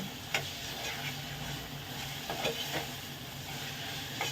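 Ginger-garlic paste frying in a pan for a mutton and drumstick curry, a soft steady sizzle with a few sharp ticks and spatula scrapes, fairly quiet and close.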